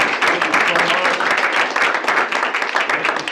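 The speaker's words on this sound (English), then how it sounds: "let's give them a round of applause" Applause from a small group at a team meeting, a loud, busy patter of clapping that runs throughout with a few voices mixed in.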